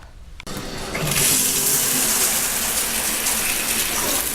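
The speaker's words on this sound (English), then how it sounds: "this icy, icy water on the coldest setting in my bathtub is extra, extra cold." Cold water gushing steadily from a tap into a bathtub on its coldest setting, a loud continuous splashing roar that starts abruptly and holds without a break.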